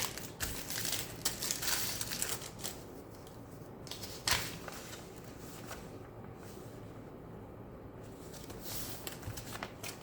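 Paper sheets for a junk journal are folded roughly in half, giving close crinkling and crisp creasing sounds with a few sharper rustles and taps, fairly faint and without speech.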